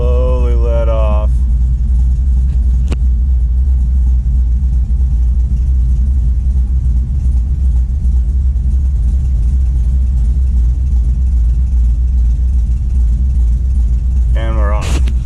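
A cammed Chevrolet Silverado 5.3 LS V8 idles steadily with a low, constant rumble throughout, and a brief higher whine rises at the start and again near the end.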